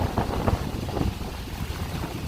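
Strong wind gusts buffet the microphone beside a pond at Presque Isle, a steady close roar of broadband rushing noise with uneven low thumps, and no voices.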